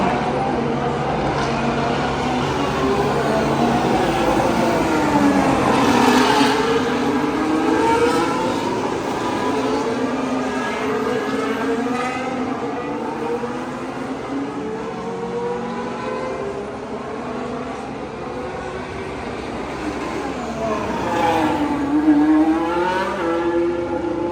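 Race cars lap the Yas Marina circuit during Abu Dhabi Grand Prix practice and qualifying, engines rising and falling in sweeping pitch as several pass by at mid distance over a continuous loud track roar.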